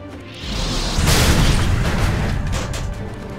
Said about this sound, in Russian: Дольше силу фокусируешь ты и заряд мощный выпускаешь